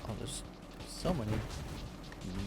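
Booming mine explosions burst amid busy Nova Drift game audio, with a heavy blast near the middle followed by rumbling, under steady background noise.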